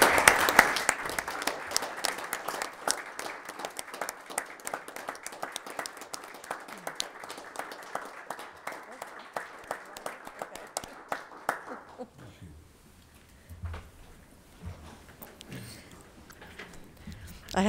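An audience at a Board of Education meeting gives a round of applause and standing ovation: sustained crowd clapping for about twelve seconds, then it dies down to a few scattered, isolated claps.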